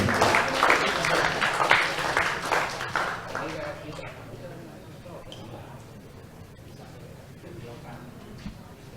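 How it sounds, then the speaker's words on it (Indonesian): An audience applauds a performer of the wayang topeng mask dance at a book launch. The clapping is dense and lively at first, then fades into quieter crowd noise and murmuring. "Kita kasih aplaus yang meriah untuk beliau"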